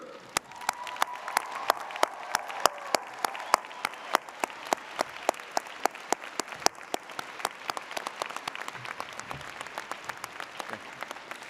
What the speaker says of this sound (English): give your family and friends the thunderous applause that they deserve?